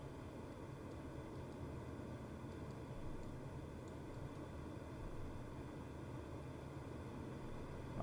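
A glider in Microsoft Flight Simulator gives off a steady, even rush of airflow and low hum, continuous and unchanging with no voices.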